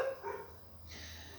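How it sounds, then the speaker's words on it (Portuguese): Several dogs barking close by, a couple of quick sharp barks followed by a fainter yip or whimper, with no talking over them. "Não repare o barulho, tem bastante cachorro aqui."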